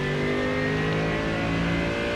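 A Mercedes AMG GT3 race car at full throttle at Spa in the iRacing sim, giving a loud, steady engine drone with a rising, rich tone and no talking over it.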